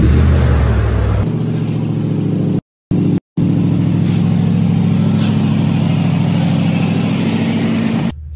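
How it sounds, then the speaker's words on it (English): A Toyota Tundra pickup truck engine cold-starts with a loud crank and catch, then settles into a steady, high-revving idle that stays strong and close, with no talking. "Nothing like a good cold start right off the bat, right?"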